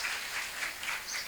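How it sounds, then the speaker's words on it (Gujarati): An audience claps steadily throughout at a speaker-led event for an education talk, a dense continuous patter of many hands at moderate distance with no talk over it. "જોરદાર એક વખત એમના માટે તાળીયા થઈ જાય."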